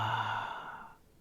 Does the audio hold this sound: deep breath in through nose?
yes